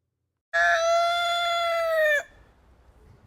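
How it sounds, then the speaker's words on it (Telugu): A single long rooster crow rings out clear and close, held for nearly two seconds before cutting off into quiet, in Tasmania, Australia. "ఈ కోడి కూత ఆస్ట్రేలియాలో విన్నాను"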